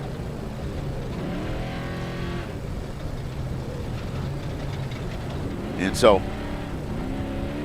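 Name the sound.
off-road race cars passing during NORRA 500 race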